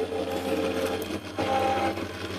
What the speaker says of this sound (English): So I'm just going to run this embossing folder through.